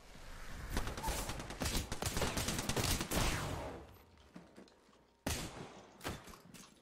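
Rapid bursts of automatic gunfire in the Apex Legends video game, dense close volleys for a few seconds, then a pause and a couple of later isolated shots.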